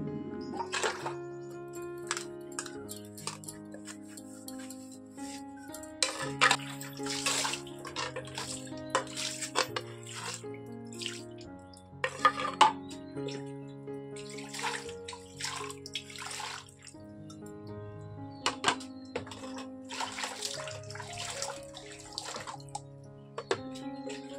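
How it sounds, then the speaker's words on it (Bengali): Cups washed under a running tap, a continuous splashing stream with shifting tone as the water hits the cups, plus scattered clinks and drips, moderately close with no talking. "তো সেই কাপগুলো ধোয়া হয়নি, তো এখন সেগুলোই ধুয়ে নিচ্ছি।"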